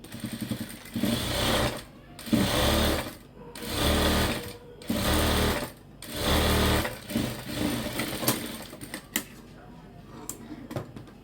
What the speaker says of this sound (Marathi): आणि एक शिलाई सुद्धा आणखी करायची, तिसरी शिलाई.